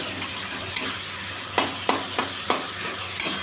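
Onion and spices fry in a pan with a soft background sizzle, broken by several sharp scraping clacks of stirring at irregular intervals.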